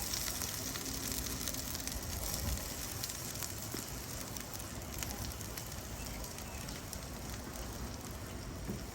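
Potatoes sizzle in avocado oil in a pan while cooking outdoors during a storm, a steady dense crackle and hiss that runs without pause from start to end.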